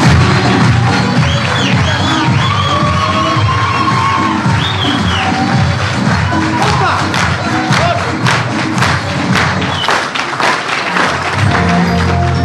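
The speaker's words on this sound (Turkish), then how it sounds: "Oyuncular salonu doldurup taşıran yüzlerce tiyatro sever tarafından ayakta alkışlandı." A packed theater audience gives a standing ovation after a stage play at a cultural center: dense, loud applause with cheering and whoops that runs steadily throughout and is heard on its own.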